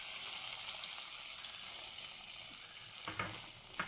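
Hot oil tempering with asafoetida poured into a village-style brinjal and ridge gourd gravy, a loud steady sizzle that gradually settles, followed by a few sharp spatters and clinks near the end.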